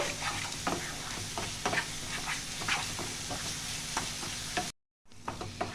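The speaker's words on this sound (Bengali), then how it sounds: "এইগুলো দিয়ে ভালো করে মশলাটা কষাতে হবে।" Spice masala with coriander powder being sautéed for a Bengali-style paneer dish, a steady close sizzle with repeated scraping stir strokes, cutting out briefly to near silence before the frying resumes.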